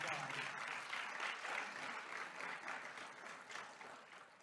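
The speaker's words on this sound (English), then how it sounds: "Can we give her a round of applause?" An audience at a county budget address applauds Miss Mary Tinsley, a sustained wash of clapping that is steady but fairly faint, easing slightly toward the end.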